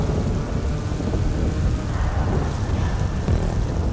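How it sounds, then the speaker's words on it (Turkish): Steady heavy rain pours without a break in GTA 5 Online at night, with low rumbling thunder rolling underneath throughout. "Ne çok yağmur yağıyor ya."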